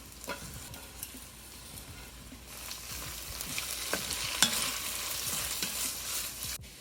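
Onion and carrots fry in a pan for braised cabbage with oyster mushrooms, a continuous crackling sizzle broken by frequent spatula stirs and scrapes that grow busier toward the end, with no talking.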